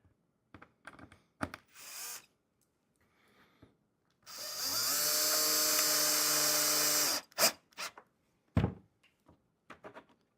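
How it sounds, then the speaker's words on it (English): A power drill drives screws to fix latches onto a beeswax-coated cedar wood bee hive, a steady whirring run of about three seconds framed by short bursts, clicks and handling knocks, close and alone. "So we're going to drill each latch in."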